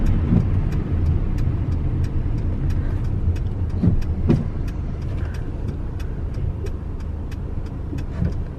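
A large vehicle, likely bus-sized, drives along with a steady low engine rumble and road noise, heard close from inside the cab, with a few faint clicks and knocks.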